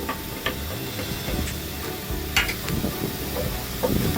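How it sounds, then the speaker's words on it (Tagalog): Pork and garlic powder stirred in a hot pan, a steady close sizzle with soft scraping strokes and occasional clicks of the utensil against the pan, no talk. "Stir and mix it together."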